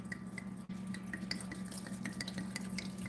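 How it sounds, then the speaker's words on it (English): A whole bottle of white wine pours into a pan with a steady gurgling, splashing stream and rhythmic glugs, close and continuous throughout. "you're going to pour in here 1 whole bottle"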